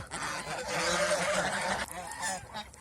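Farm geese honk loudly and continuously in a raucous chorus while mating, close by, with a brief dip before the calls resume more quietly.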